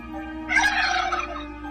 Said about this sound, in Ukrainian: Так, діти, це індик.